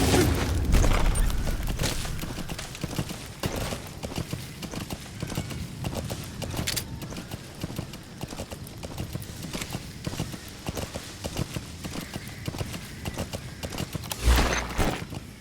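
Horse hooves clip-clop steadily through the whole stretch in the Metal Gear Solid V: The Phantom Pain game, a loud, continuous galloping rhythm with a heavy thump near the end.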